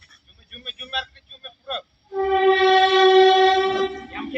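An Indian railway train sounds a long, steady horn blast after a few seconds of choppy talk and faint knocks, the horn loud and sustained to the end.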